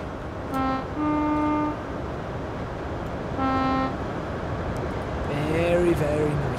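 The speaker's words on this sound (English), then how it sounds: "There goes the train." A Great Western Express train in Train Sim World runs a wet morning line, sounding two long two-tone horn blasts over a steady rolling rumble, then rising whining engine tones as it passes close by.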